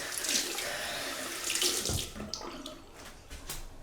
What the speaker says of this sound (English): I'm going to rinse the brush out